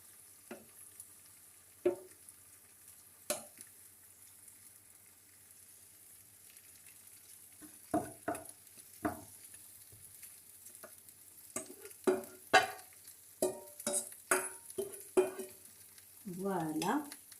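Vegetables for a Moroccan chicken tajine cook in a few spoonfuls of olive oil over medium heat. A faint, steady sizzle runs under scattered scrapes and clatters of stirring, which come closer together and louder toward the end.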